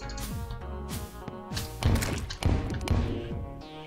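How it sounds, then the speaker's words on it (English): Bombs going off in modded Terraria, a series of heavy crunching blasts and thuds spaced roughly half a second apart, layered over game music and impact clatter. "let's just use some bombs to get down here"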